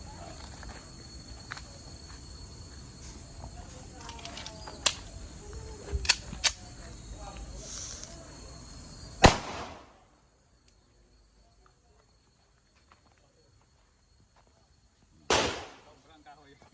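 Gunshot fired at an amulet outdoors: a single loud, sharp crack cuts through faint insect and background noise, followed by near silence and then a second short burst of noise.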